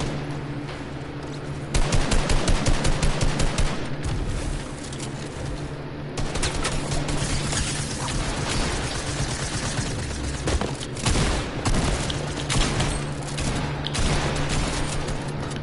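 Sustained gunfire in a shooter video game: a rapid burst of automatic fire followed by dense, continuous shots and scattered single cracks over about fifteen seconds.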